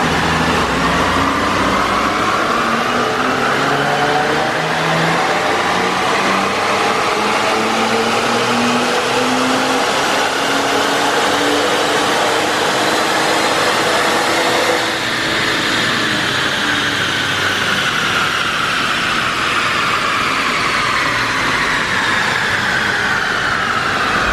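Several electric cooling fans blowing around the engine bay of a 500HP Infiniti Q50, a loud continuous whirring roar with shifting tonal whines that holds throughout.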